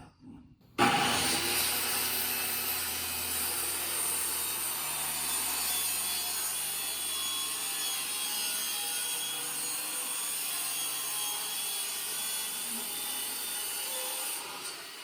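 A hand saw cuts a quarter inch off a piece of wood blocked up off the floor, a continuous close rasping stroke that starts abruptly and runs steadily for about fourteen seconds.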